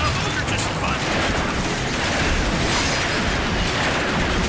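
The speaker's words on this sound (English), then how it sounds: "We're gonna use thermal rockets then." Thermal rockets fire in the Transformers Fall of Cybertron video game, a dense, continuous barrage of booming blasts and rumbling explosions that stays loud and unbroken throughout.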